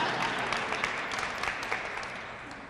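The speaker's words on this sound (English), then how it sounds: "You can applaud that." Audience applause at an equity and social justice event, a steady dense wash of many hands clapping throughout, moderately loud with no talk over it.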